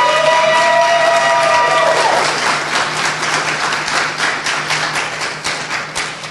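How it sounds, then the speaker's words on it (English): A crowd applauds an award winner at a Southeast Model African Union assembly, steady dense clapping that follows a brief tonal sound at the start and tapers slightly toward the end. "give her a round of applause"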